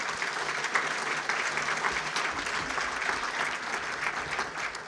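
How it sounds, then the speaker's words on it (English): An audience at a regional political address breaks into sustained applause, a dense wash of clapping from many hands that holds steady for several seconds with no voices over it. "Give him another round of applause."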